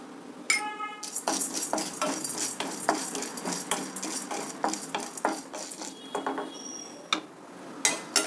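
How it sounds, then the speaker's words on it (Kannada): Chana dal is dropped into a pan and stirred as it fries, with a spoon scraping and clinking against the metal in steady repeated strokes over a faint sizzle, close and fairly quiet. "ಈಗ ಕಡಲೆಬೇಳೆ ಹಾಕ್ತಾ ಇದ್ದೀನಿ"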